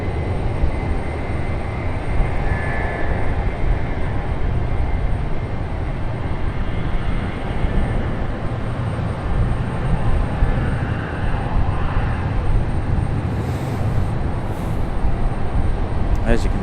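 Loud, steady jet engine roar from a Southwest airliner taxiing at Raleigh Durham airport, continuous broadband rumble heard from outdoors with wind.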